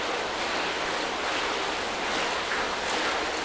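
A hose floods a ceramic-coated car body with water, making a loud, continuous broadband spray hiss that holds steady throughout, close to the microphone, with no speech.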